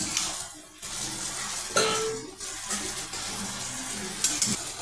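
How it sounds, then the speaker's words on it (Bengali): Pui shak (Malabar spinach) with jackfruit seeds, turmeric, cumin and chilli powder is stirred in a pan, with scraping of a spatula against metal and soft sizzling, close up, no talk. "ভালো করে নেড়ে নেব।"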